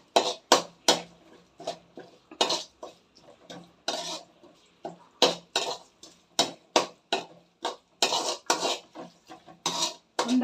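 Leftover cooked rice is mixed by hand at home, making a rhythmic series of short, moist squishing and slapping bursts, close and fairly loud, repeating steadily throughout with no talk.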